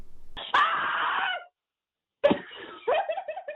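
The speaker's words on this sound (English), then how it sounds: "You maybe go to the website and hear other callers' screams." Two loud screams ring out, one long and sustained, then after a brief silence a second cry breaking into shorter gasping bursts.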